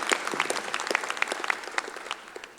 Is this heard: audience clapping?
yes